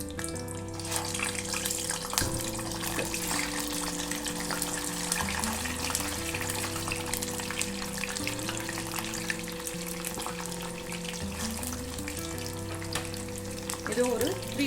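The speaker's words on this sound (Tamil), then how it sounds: "சேம் ஆயில் அதிலே ஃப்ரை பண்ணிடலாம்." Potato smileys deep fry in hot oil, a steady close bubbling sizzle running the whole time, with a low hum and occasional clinks in the background.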